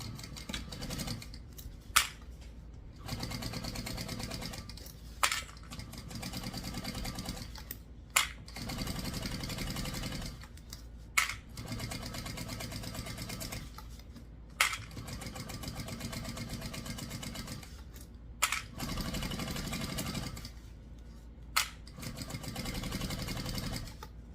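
A sewing machine stitches a tote bag strap at a stitch length of 4, running in steady bursts of rapid mechanical whirring roughly every three seconds, separated by short pauses and sharp clicks.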